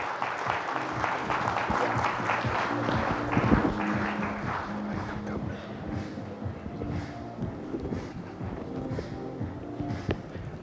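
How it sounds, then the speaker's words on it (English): A conference audience at a keynote on procurement applauds in a dense, sustained wash of clapping that holds steady for around ten seconds before thinning slightly toward the end. "Everyone, with a very big round of applause, please welcome Mr. Atul Jain on the stage."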